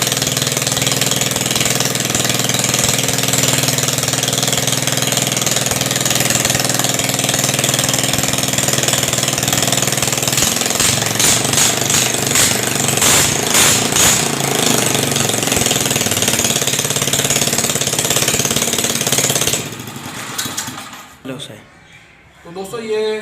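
A generator engine, fully overhauled and refitted, runs loud and steady with a hard knocking chatter for about twenty seconds, then cuts back and sputters toward the end while a voice speaks over it.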